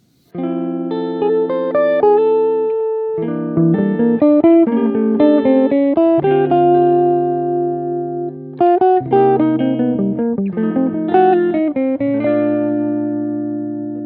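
A busy, fast-moving melodic line of many quick notes weaves over sustained chords, playing continuously with brief pauses between phrases.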